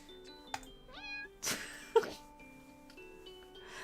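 A cat meows in a dating-themed video game, a couple of rising, tonal calls set against soft game music and a few brief clicks.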